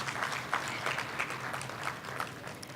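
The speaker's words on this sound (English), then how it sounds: "Can we have a round of applause, please?" Moderate audience applause at the ICAP FRED Forum, a soft, steady wash of many hands clapping, somewhat distant and without speech.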